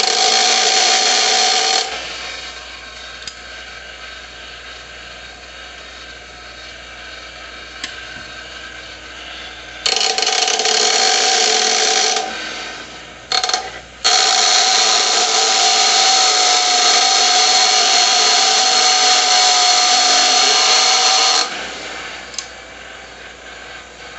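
A loud power tool grinds through the protruding threads of a bolt held in a vice grip on a Traxxas EMaxx RC truck wheel. It runs in long, steady stretches with a few short breaks in between.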